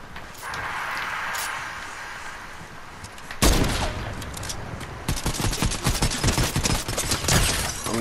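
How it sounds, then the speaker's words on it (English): Dense Fortnite gunfire, a quiet stretch with a steady ambient wash, then a loud shot hits and sustained rapid automatic fire keeps going close and loud to the end, with no talking. "where is he shooting me at?"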